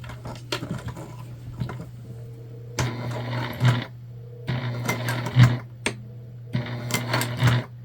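A sewing machine back-stitching a shoulder bag, running in several short bursts of rapid stitching separated by brief pauses, close and clear with no speech.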